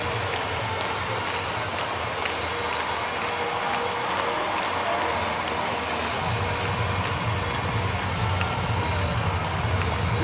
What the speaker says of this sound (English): And the full capacity crowd here in Space City. Loving every second of it.